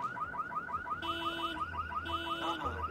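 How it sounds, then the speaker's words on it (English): A car alarm in Splinter Cell: Conviction sounds loud and close, a rapid repeating warble with interrupted steady tones layered over it, alone without talk. "what we will do is start that car alarm, and they can come and investigate it"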